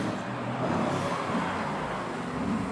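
A car speeds past with its engine revving, a steady broad roar of road noise and engine that stays loud and close throughout.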